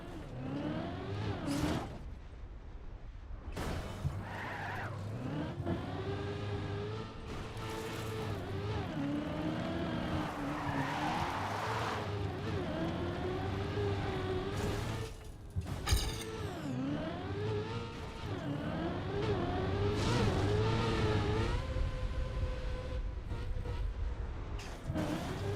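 A car in the Trackmania racing game drives with a steady engine whine that rises and falls in pitch as it shifts and skids, loud and continuous for the whole stretch.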